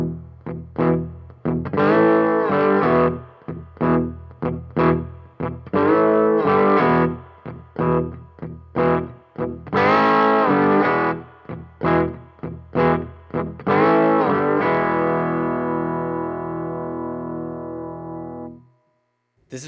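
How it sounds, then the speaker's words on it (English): A bluesy rhythm on a slide guitar using the open strings, with rhythmic chugging bursts of chords and slides repeated over about fifteen seconds before a final ringing chord fades out. "We're going to do a little bluesy rhythm that goes like this."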